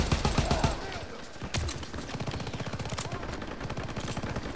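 Rapid automatic gunfire in the video game Call of Duty WWII, a fast, steady, dense stream of shots mixed with game effects running through the whole stretch.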